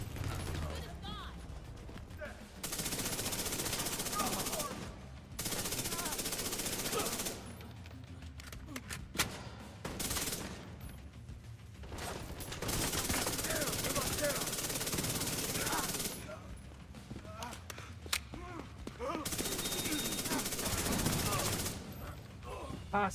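Long bursts of automatic gunfire in Tom Clancy's The Division 2, loud sustained volleys broken by short quiet gaps, with someone talking over parts of it.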